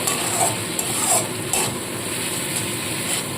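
Small fish curry stirred in a pan, a constant close sizzle with soft scraping strokes and a few light clinks recurring every half second or so.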